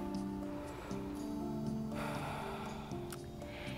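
Slow, deep breaths during a seated chair yoga session, soft and close, with several quiet inhales and exhales and snuffly nasal air.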